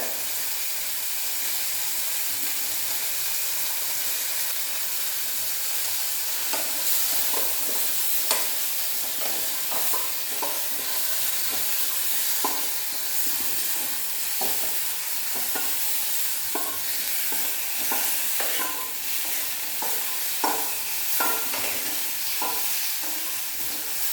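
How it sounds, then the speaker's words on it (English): Mustard seeds spluttering in hot oil for lemon pickle, a steady close hiss broken by scattered sharp pops and crackles that thicken toward the middle and end, with no voices. "I am putting the mustard into it. It will splatter."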